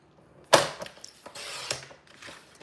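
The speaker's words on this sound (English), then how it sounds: "So let's grab our trimmer here." A paper trimmer slices cardstock with a sharp click and a rasping blade slide, followed by a few lighter scraping strokes and soft mechanical clicks up close.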